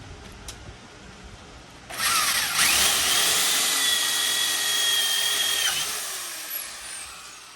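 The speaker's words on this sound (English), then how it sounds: "we're now going to drill them out so they'll accommodate the new hardware" A power drill whirs up loudly and runs steadily for several seconds while drilling out bolt holes on a Suzuki Sidekick, then winds down, close by with no talking.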